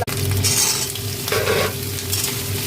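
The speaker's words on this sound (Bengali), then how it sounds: "তেল দিয়ে দিয়েছিলাম, তেলের মধ্যে পেঁয়াজ আর লঙ্কাটা একটু" Onion and chili frying in hot oil, a steady close sizzle with scraping and stirring from a spatula throughout, no voices.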